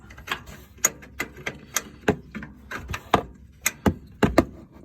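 Ratchet wrench clicking as a nut is snugged back up on a 1986 Ford F-150 during suspension work, a run of quiet, irregular sharp ratcheting clicks and metal knocks up close.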